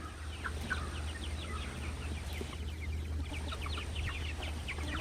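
Hens and young roosters in a backyard flock cluck and chatter in soft, scattered bursts, at a moderate distance over a steady low hum, with no talk.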